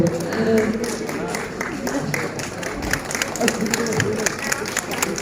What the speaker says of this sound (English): May I have a round of applause from you?